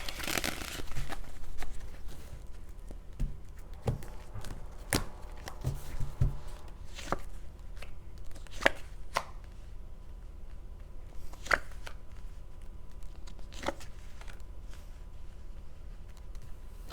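A deck of tarot cards being shuffled and handled up close, a steady papery riffling and sliding with sharp snaps and slaps of cards at irregular intervals, continuing alone without talking.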